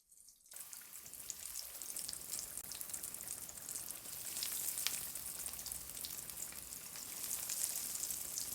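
Chicken nuggets frying in medium-hot oil give a steady, dense crackling sizzle that swells slightly as it goes, starting abruptly after a brief quiet moment and continuing alone without talk.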